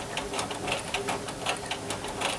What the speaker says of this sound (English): stick my needle down, pivot, press your foot down, stitch to the end